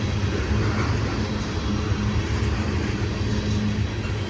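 A long, heavy Union Pacific southbound freight train of 99 loads and over 14,000 tons climbs a grade, a steady low diesel rumble and droning engine tone held evenly throughout at moderate distance, with no voices.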